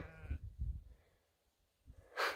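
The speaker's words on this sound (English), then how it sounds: "Sheep are all moving now." Sheep bleat softly at a distance, a few low calls with quiet gaps between them, then a short burst of noise at the end.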